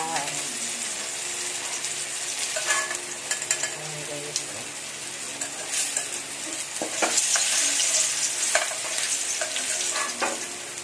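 Tofu frying and being stirred in a pan for adobong sitaw with garlic, giving a steady close sizzle with scattered scraping and clattering of the utensil against the pan, no talk.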